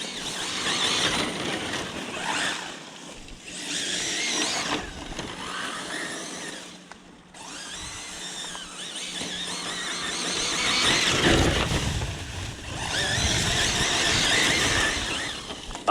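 A Hosim Mojarco 1/8 scale 6S RC car drives outdoors, its electric motor whining loud and steady throughout, rising and falling in pitch with bursts of acceleration, with no talk over it.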